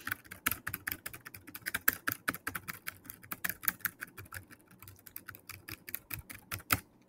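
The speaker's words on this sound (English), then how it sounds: "we're literally spam clicking the button" Rapid spam clicking on a button in an online business simulator game, a fast irregular run of sharp close clicks, dry and without voices.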